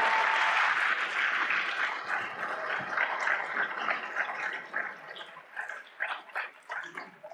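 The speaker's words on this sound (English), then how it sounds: "Please give a round of applause to your friends." A lecture hall audience at a university digital circuits class applauds, a dense, sustained wash of many hands clapping that thins and becomes patchier toward the end.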